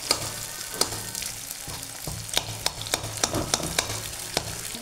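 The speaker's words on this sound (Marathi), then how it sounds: "बटाटे पण थोडे तेलामध्ये परतून घ्यायचे।" Potatoes and curry leaves sizzle in hot oil in a pan, a steady frying crackle close by, broken by sharp scraping knocks as a spoon stirs and tosses them, with no talking.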